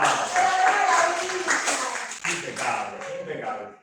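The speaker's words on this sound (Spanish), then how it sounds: "fuertes aplausos" Enthusiastic applause from a crowd at a church Bible mission gathering, a dense burst of clapping that fades slightly over a few seconds, with voices mixed in.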